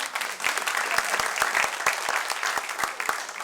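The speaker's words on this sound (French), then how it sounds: "On peut l'applaudir?" Church congregation applauding during a Sunday service, a full crowd of hands clapping steadily and briskly, with some low voices mixed in beneath the applause.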